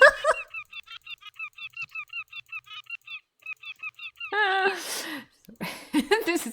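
Repeated honks from a bird in the video game Tiny Bookshop, a rapid run of short, loud calls followed by longer, harsher squawks, heard alone.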